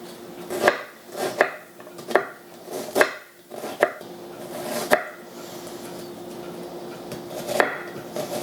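A knife chops cabbage along its veins on a cutting board in a home kitchen, giving about eight crisp, evenly spaced cuts with a woody knock and a little leafy crunch, close by and without talk.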